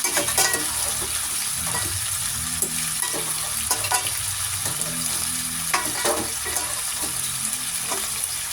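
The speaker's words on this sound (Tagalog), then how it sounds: "Ilalambot na natin siya. Ilagay na natin. Igisa na natin." Beef for calderita sautéing in a pan, a loud continuous sizzle and hiss with repeated stirring scrapes, close up with no talking.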